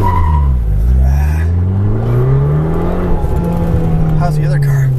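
Fiat 500 Abarth hatchbacks racing on a track, a small engine revving and pulling hard with rising and falling pitch as it accelerates, close and loud, with a voice calling directions over the engine.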